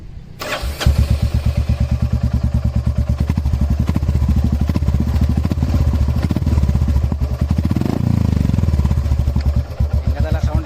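A Royal Enfield motorcycle engine fires up and runs nearby with a loud, steady, thumping beat, briefly revving before settling back to idle.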